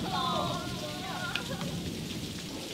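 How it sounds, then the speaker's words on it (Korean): Rain falls steadily on an outdoor filming location in Jeju, a continuous broadband hiss of drops on surfaces, with faint tonal sounds and brief voices in the first second. "지금 비가 와가지고요."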